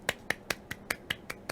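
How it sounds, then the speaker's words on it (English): A single person claps eight times in a quick, even rhythm, the claps close, light and sharp against a quiet room with no talking. "That was me clapping."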